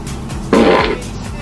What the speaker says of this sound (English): I really have to fart.